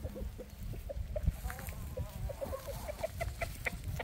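Chickens, including a young meat bird, cluck steadily at a backyard compost pile, giving a run of short, low, close clucks over a rustling, scratchy background.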